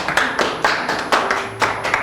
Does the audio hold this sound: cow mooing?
no